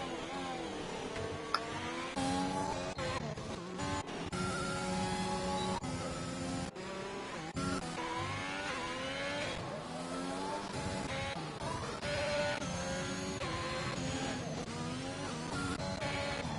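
Formula 1 cars racing on the Baku street circuit in Azerbaijan in the F1 2021 video game, with high-pitched engines whining and shifting continuously through gear changes, loud and sustained with overlapping car tones.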